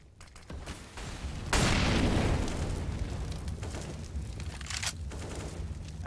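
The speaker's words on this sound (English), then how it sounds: "just toss the nade real quick" A grenade thrown and bursting in Counter-Strike on the Inferno map, a loud close blast with a long rumbling tail that fades slowly while a commentator talks underneath.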